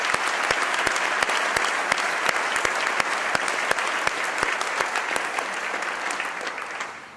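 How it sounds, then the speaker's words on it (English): Steady audience applause fills a university opening convocation hall, dense clapping holding at an even level for about seven seconds before tapering slightly at the end, with no talk over it. "Let's give them another round of applause."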